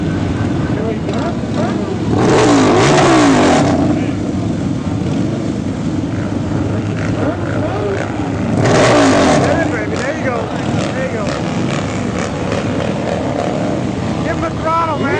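Loud engine revving with throttle on the street at South Padre, two strong bursts of acceleration rising over a constant rumble of traffic and engine noise, with people talking nearby.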